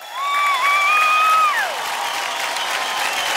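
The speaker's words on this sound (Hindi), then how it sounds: "इनके लिए एक बार जोरदार तालियां हो जाए।" Studio audience on a Kitchen Champion cooking show breaks into applause and cheering, a broad steady wash of clapping with crowd noise under a rising whistle-like musical sweep at the start, loud and sustained to the end.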